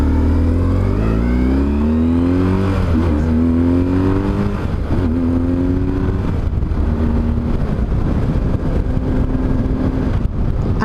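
A BMW R1150 GS motorcycle engine, fitted with R1200 GS injectors, accelerates on the road through several rising revs and gear changes, loud and close with steady wind noise throughout.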